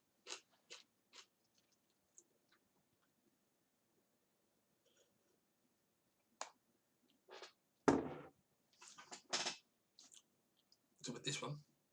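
Pork scratchings crunched while chewing, close and quiet, with a few sharp bites early and then a louder burst of crackling chews later on. Scattered brief sounds are heard between them.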